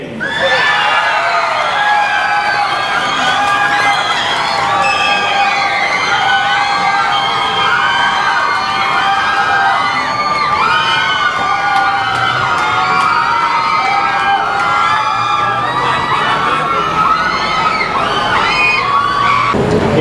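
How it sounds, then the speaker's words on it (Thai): A lively audience at a Thai school drumming event cheers and shouts for team Bamboo Slim, a continuous loud wall of whoops and yells with clapping mixed in, sustained throughout. "ขอเสียงปรบมือกับทีมแบมบูสลิม"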